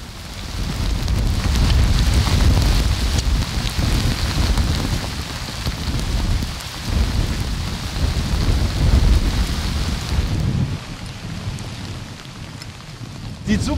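Steady rain pours over a potato field in rural Mecklenburg during a thunderstorm, a dense, loud wash of drops with low rumbling underneath that eases slightly toward the end, with no voices.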